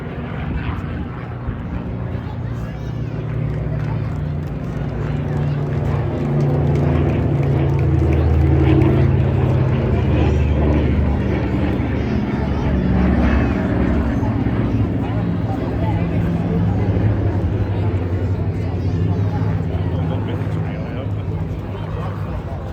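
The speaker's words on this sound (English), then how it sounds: "So watch as the aircraft pitches up from the left, return from the right," Dakota and Hurricane propeller aircraft flying at the Blackpool airshow, a steady loud drone of engines that swells near the middle and holds throughout, with a commentator talking over it.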